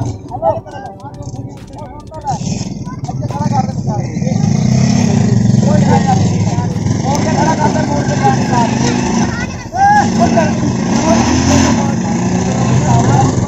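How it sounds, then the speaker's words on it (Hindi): A motorcycle rickshaw drives into a farm field in a village, its engine droning and revving close by with strained, uneven throttle, while people talk loudly over it. "देखिए मोटरसाइकिल रिक्शा वो खेत के अंदर ही लेके आ गए हैं भाई"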